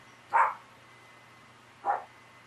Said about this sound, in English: And there's my little dog barking.